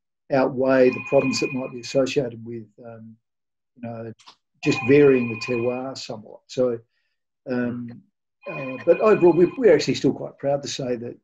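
A phone rings in repeated short bursts during an online wine tasting, faint and partly masked beneath a person talking steadily throughout.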